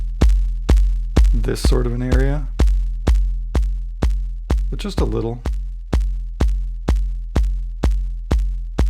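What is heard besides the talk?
kick drum with overdrive saturation on Elektron Digitakt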